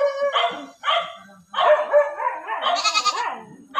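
Several loud, close bleating calls from goats, including newborn kids, in quick succession, with brief pauses between bursts and no talking.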